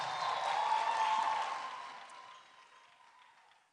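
Audience applause in a campus hall during a motivational talk, a dense clatter of clapping that swells over the first second, then gradually thins and fades toward the end, with no voices over it.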